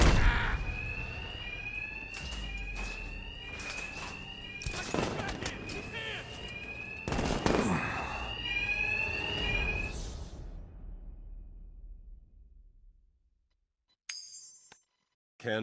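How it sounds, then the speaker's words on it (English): An alarm rings in Batman Arkham Knight, a loud repeating electronic tone in pulses amid heavy crashes and impacts, then fading to silence near the end. "My attacks will be covered by the noise of the alarm."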